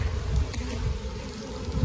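Honeybees buzzing around an opened hive frame during a fall Varroa treatment with oxalic acid strips, a steady low droning hum close by, swelling slightly near the start and end, with no voices.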